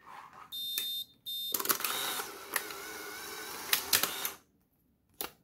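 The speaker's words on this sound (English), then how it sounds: "As you can hear, the motor's pretty weak because the battery's weak." A Polaroid Spectra camera running on a weak battery ejects film with a sluggish, strained motor whir, preceded by short mechanical clicks and tones, and then it stops abruptly before a final click.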